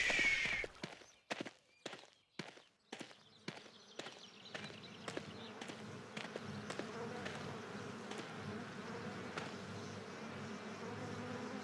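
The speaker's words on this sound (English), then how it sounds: "So let's listen for the bees." In the video game Forest Ranger Simulator, a series of soft clicking steps fades into a steady, droning buzz of bees in a forest clearing, low in level and continuous to the end.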